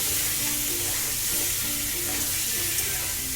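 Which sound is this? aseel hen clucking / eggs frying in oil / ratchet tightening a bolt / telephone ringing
eggs frying in oil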